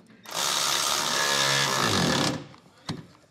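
An impact driver or power tool tightens the U-bolt nuts of a B and W Turnoverball underbed gooseneck trailer hitch in one loud, steady burst of about two seconds, followed by a brief knock.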